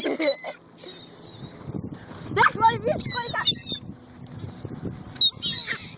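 A swarm of seagulls squawking over bread being handed out, a dense mix of sharp high calls rising and falling in bursts, loud and close, with people talking and laughing over them throughout.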